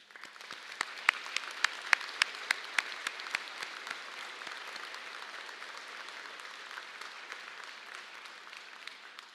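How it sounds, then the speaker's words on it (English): Graduation convocation audience applauding at a university ceremony for veterinary medicine and nursing graduates, with sharp individual claps standing out early before settling into a steady, even wash of clapping from a large crowd. "Let's give all of them a round of applause."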